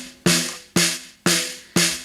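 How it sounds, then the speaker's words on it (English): Snare drum heard only through a microphone beneath it, four bright, buzzy hits at a steady pace, each with a bright wiry rattle trailing off, close and alone. "snare bottom only."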